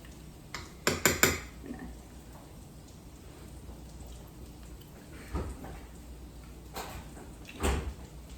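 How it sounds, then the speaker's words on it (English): Red and black bean burger mixture scraped off the bottom of a bowl, with a cluster of sharp scrapes and knocks near the start and a few softer scrapes later, close by over quiet kitchen background. "Scrape it all up off the bottom."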